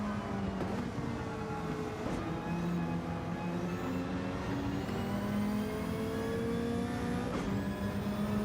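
Race car engine in a racing video game, steady harmonic drone rising and falling through repeated gear shifts, loud and continuous with no talk.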